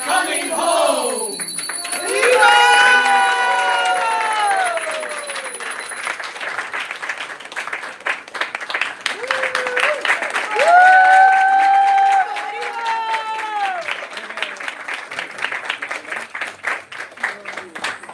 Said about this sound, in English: let's give another round of applause to our beautiful drama troupe